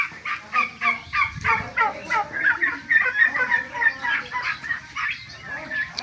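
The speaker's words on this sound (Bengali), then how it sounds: "এই টার্কিগুলা দেখেন" A flock of turkeys gobbles in rapid, repeated bursts, loud and close, with overlapping calls continuing throughout.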